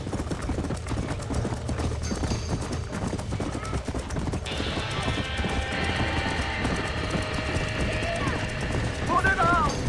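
Horse hooves clip-clop in the video game Red Dead Redemption during a barn fire, amid people shouting over crackling flames; a horse whinnies briefly near the end.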